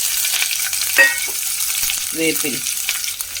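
Onion, ginger and chopped green chili fry in a pan with a close, bright sizzle, a sharp metallic scrape of stirring about a second in and a short rattle of the spatula later.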